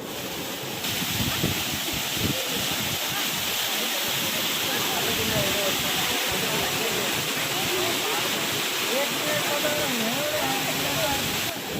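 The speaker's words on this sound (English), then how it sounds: "This is a man-made waterfall which is 45 meters above the sea level, 45 meters long and 11 meters wide." A 45-metre-long man-made waterfall pours continuously, a dense, even rushing hiss filling the whole span, with someone speaking over it.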